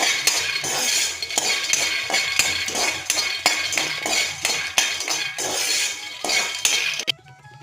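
Peanuts roasting in a pan while being stirred, heard as steady metallic scraping and clinking of a utensil against the pan, with repeated sharp taps throughout before the sound cuts off near the end.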